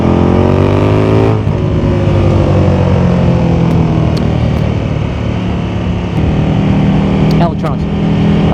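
KTM Superduke 1390R EVO motorcycle engine revving hard through rising gear pulls with a quick short-shift around the second mark, loud and close, harmonic engine note climbing then settling into a steady high roar, with a brief blip near the end.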